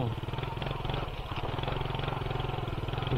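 A Yamaha PG-1 motorcycle rolling slowly over gravel, its engine putting out a close, steady low thrum with a faint clatter underneath, while a voice talks over it.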